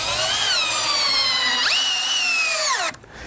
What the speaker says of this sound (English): put a screw in it right there. I'm using 3-inch decking screws for this.